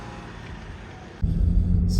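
A new Land Rover Defender pulling away on the road, starting as a quiet cabin hum that swells into a louder, steady low engine and road rumble about halfway through.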